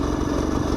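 A Bultaco Alpina 350 motorcycle engine with a suspected bottom-end fault runs steadily up close, a brief rough clattering drone with no voices.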